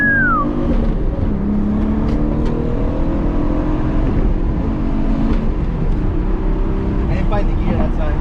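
A 3G Mitsubishi Eclipse engine revs and drops under load during a fumbled gear shift with the clutch let out early, heard from inside the car over steady road noise while people talk.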